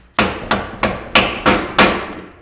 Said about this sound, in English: just take a hammer and just kind of gently bring it in